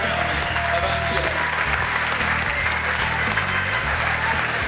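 Loud, sustained crowd applause for two Muay Boran fighters at a British fight night after three rounds, dense clapping over steady pulsing music.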